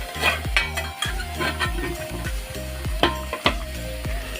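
Pointed gourd and potato cook in a mustard sauce in a pan, with bubbling and sizzling under repeated spoon stirring and scraping against the metal, several distinct clinks in steady rhythm.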